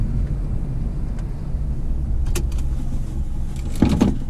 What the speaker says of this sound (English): I'm just gonna leave the car running because I want to keep my phone charging.